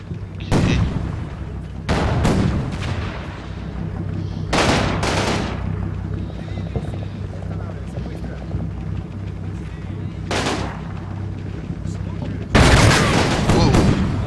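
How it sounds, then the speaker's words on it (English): Tank cannon fire from a tank duel in the Combat Mission Red Thunder video game: about six heavy booming shots at irregular intervals over a steady low rumble, the last blast loud and sustained. "So we are having a bit of a tank duel here."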